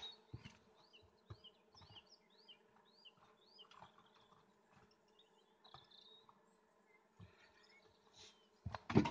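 Honey bees buzzing at close range at a hive, a steady low hum with individual insects droning past, occasional soft knocks and rustles.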